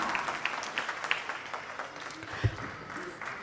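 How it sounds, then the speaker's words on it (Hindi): Faint applause from an audience at an evening public event welcomes a guest, a soft patter of clapping running beneath a voice speaking. "आप सभी से भी गुजारिश है कि पुरजोश तालियों के साथ उनका खैर मकदम किया जाए।"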